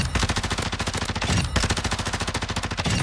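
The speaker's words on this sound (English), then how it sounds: "let's test out these guns in the firing range real quickly" Automatic gunfire rattles in rapid, evenly spaced shots at a Call of Duty firing range, loud and close, in two continuous bursts separated by a brief break.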